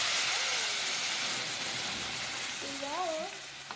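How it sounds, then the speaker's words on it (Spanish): Green chili fries in oil in a clay pot, giving a steady broad hiss and sizzle that fades slightly toward the end, with faint tonal squeaks near the close. "Freiremos el chile verde."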